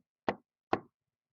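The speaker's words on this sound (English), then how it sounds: "He slipped behind the bushes and knocked 5 times on the door." Two sharp, hollow knocks on a tiny door, evenly spaced and close, each a short wooden rap that dies away quickly into silence.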